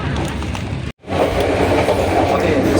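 Steady rumbling of a CC 201 diesel locomotive train with rhythmic rail clatter, loud and close, broken by a brief near-silent gap before resuming.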